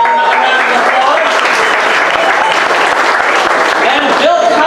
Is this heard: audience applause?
yes